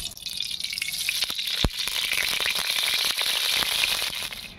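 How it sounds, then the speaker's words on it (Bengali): Mustard oil poured into a hot wok on a stove, giving a steady bright sizzle and hiss with scattered crackles and one sharp pop, close and continuous throughout. "আমি এবারে তেলটা দিয়ে দিচ্ছি।"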